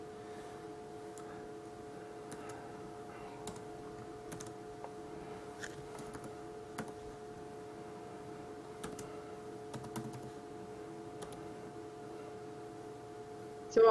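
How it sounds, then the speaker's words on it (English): A phone number typed on a computer keyboard, with sparse, quiet key clicks spread irregularly over a steady electrical hum. "typing in a phone number"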